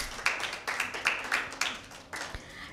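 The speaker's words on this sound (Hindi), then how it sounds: "तालियां" Audience clapping for a team at a school Bible quiz, bursts of hand claps in an uneven rhythm at moderate distance, fading out near the end.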